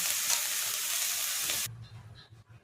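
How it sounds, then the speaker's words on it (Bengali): Soybean chunks sizzle hard in a frying pan, then the hiss cuts off abruptly, leaving a few faint clinks and soft handling sounds. "এই দেখুন সয়াবিনটা আমার মোটামুটি ভাজা হয়ে গেছে"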